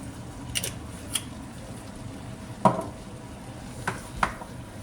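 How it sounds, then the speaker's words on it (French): Pasta ingredients with rosemary are mixed in a kitchen: a few separate utensil scrapes and clinks against a pot or bowl, spaced out over a quiet background, with one louder knock in the middle. "On mélange tout maintenant."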